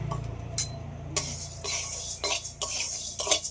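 Moong dal dry-frying in a wok, stirred with a utensil in irregular scraping bursts over a low hum, close and fairly loud.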